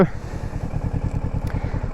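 A motorcycle engine pulses in a fast, steady rhythm as a beginner rider sets off. The sound is close and even throughout.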